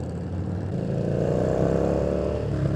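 A Yamaha Bolt motorcycle engine rumbles steadily up close, its low throbbing drone rising slightly as it revs, with no talking.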